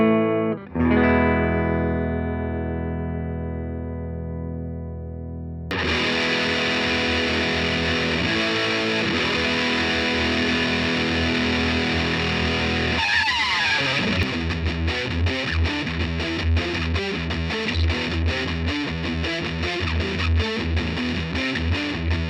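Electric guitar driven through a heavy distortion pedal voiced between a Big Muff and a DS-1, starting with a thin, buzzy note, then loud, thick, sustained distorted chords and fast chugging riffs that run continuously without any talking.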